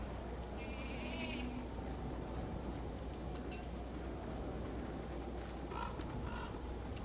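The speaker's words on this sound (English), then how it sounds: "We got little goats." Goats bleat in the winter world of the video game Don't Starve, a few short nasal calls over a steady wind-like ambient bed, with faint high chimes scattered through it.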